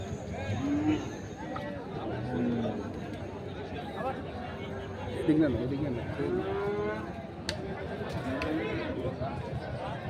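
Haryana-breed Indian bullocks and large bulls low and moo intermittently amid a busy crowd of people talking at a cattle market, the animals close and clearly audible under the chatter.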